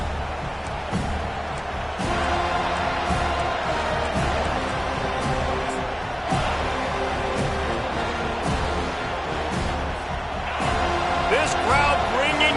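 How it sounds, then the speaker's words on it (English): Dense, steady stadium crowd roar from a college football video game, Florida State against Alabama, filling the whole stretch at a constant loud level with scattered thumps and bursts layered on top. "This crowd bringing the energy and noise early."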